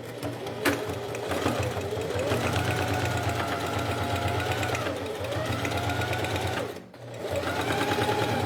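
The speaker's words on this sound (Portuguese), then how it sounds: "com meio pé de máquina, eu vou pespontar" A sewing machine runs a topstitch along the edge of clear plastic fabric with a half presser foot. Its fast, steady mechanical whir continues almost unbroken, apart from a brief stop near the end, close and clear with no talking.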